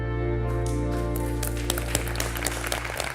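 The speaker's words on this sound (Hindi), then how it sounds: "ताली तो मारो, ताली तो मारो। तालियां तालियां।" Clapping breaks out on a celebrity cooking competition set, a short burst of steady applause layered over a low sustained musical drone.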